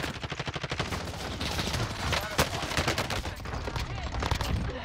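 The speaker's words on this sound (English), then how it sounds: "Someone is sniping from there." Rapid gunfire in Call of Duty: Cold War with long-range sniping, beginning as evenly spaced pulsing shots and then continuing as a dense, steady stream of crackling reports.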